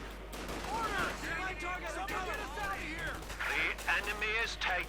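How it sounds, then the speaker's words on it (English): Infantry small-arms fire in the strategy video game Company of Heroes 2 rattles at moderate level in the background while someone talks continuously over it. "They're shooting around here."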